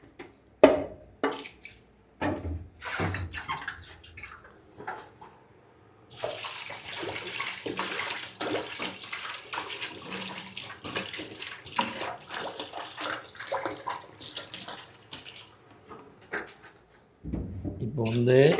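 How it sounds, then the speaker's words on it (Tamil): Water pours from a tap into a pot of freshly washed rice in a home kitchen, a steady splashing rush lasting about ten seconds, preceded and followed by clattering handling sounds. "இப்போ நம்ம தண்ணி ஊற்ற போகிறோம்."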